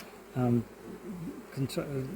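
Honey bees at an apiary hum and buzz nearby with wavering pitch, close to the listener, while a person briefly talks over them.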